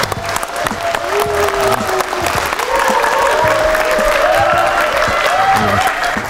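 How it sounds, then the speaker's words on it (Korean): Sustained applause from a crowd, steady and loud throughout, with a few faint whistles or cheers rising above the clapping. "우리 유홍식 대표님을 뜨거운 박수로 맞이해 주시기 바랍니다."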